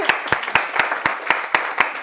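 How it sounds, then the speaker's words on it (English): An audience claps in even, spaced bursts at a talk event, roughly eight or nine distinct sharp claps over a couple of seconds, fairly close and clear. "Big round of applause for Kun, please."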